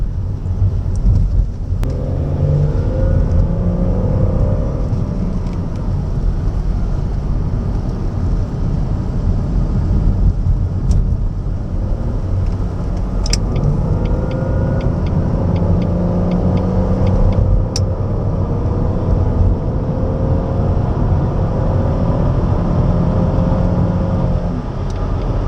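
Jaguar X-Type 2.5 V6 SE estate cruising at about 70 mph, a steady, loud broadband rumble of engine, tyre and road noise heard from inside the cabin, continuous throughout with no talking.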